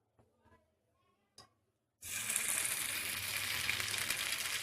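Paneer noodle spring rolls drop into hot oil and burst into a loud, continuous sizzle and crackle of frying, after a few faint clinks beforehand.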